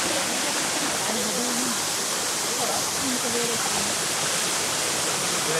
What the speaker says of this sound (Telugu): ఇదే మనం చేరుకోవాల్సిన వాటర్ ఫాల్ అయితే ఇదే